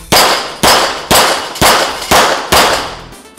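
Six sharp metallic clangs of bullets striking a steel gong target at a steady pace, each ringing out and fading before the next strike, loud and clear with no voices.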